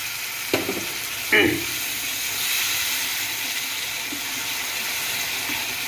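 Water splashes into a hot pan of quail curry, giving a sharp hiss and burst of sizzling that settles into a steady, moderate simmering crackle.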